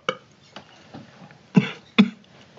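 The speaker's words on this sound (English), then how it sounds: "It sounded like I did the burp, but you did the cough." A person gives several short coughs, two sharp, louder ones standing out among quieter throat sounds, close and dry in a quiet room.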